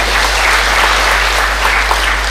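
A church congregation breaks into steady, dense applause and cheering praising Jesus, loud and sustained throughout with no speech over it.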